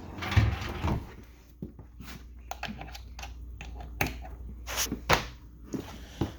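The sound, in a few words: RV kitchen drawers opening and closing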